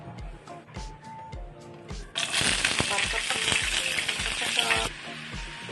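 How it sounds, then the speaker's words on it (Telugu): Chillies and tomatoes go into hot oil for a peanut and sesame chutney. A loud burst of sizzling begins partway through and holds steady, then drops back, with background sounds and some talk heard earlier. "అందులో కొంచెం నూనె వేసుకుని వేడైపోయింది. ఇప్పుడు మిరపకాయలు, టమాటాలు వేసుకుందాం"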